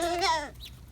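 A single goat bleats close by in a backyard garden near a chicken area, a short wavering cry lasting about half a second, followed by a faint bird chirp.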